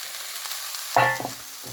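Leeks hit a hot frying pan with a sudden sizzle that fades slightly, preceded by a quiet kitchen background.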